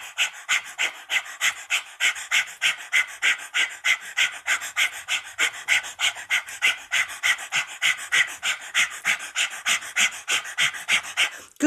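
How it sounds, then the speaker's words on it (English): Rapid, evenly pulsed breath of fire from kundalini yoga practice, roughly three sharp nasal exhalations per second in a steady unbroken rhythm, close and loud, with no talking. "So you've got a nice active core with this breath of fire"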